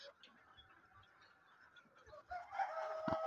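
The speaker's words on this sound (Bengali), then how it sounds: "এই যে মুরগি চারিদিকে।" Chickens on a farm with cattle and pigeons around, with soft clucking and fowl calls throughout and a louder burst of crowing or squawking near the end.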